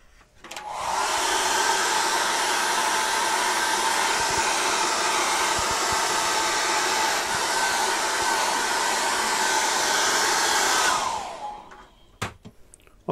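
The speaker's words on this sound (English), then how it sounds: "that's now been dried with a hair dryer" A hair dryer roars steadily at close range for about ten seconds, drying acrylic paint, then winds down and cuts off, followed by a few faint clicks.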